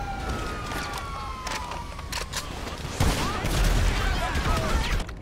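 Grenade launcher fire in the GTA Online video game: repeated sharp blasts and gunfire bursts, with a heavier explosive hit around the midpoint, plus siren-like tones in the background of a busy combat scene.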